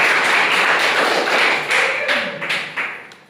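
A classroom gives a student a short burst of applause: loud, close clapping from a small group that fades out within a few seconds.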